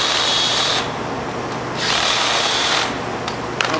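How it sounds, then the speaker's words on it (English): Power drill with a large bit boring into plastic car bumper trim, a steady high whine in two bursts separated by a short pause, close and loud, with no talking. "So what we do is we take a bigger drill bit."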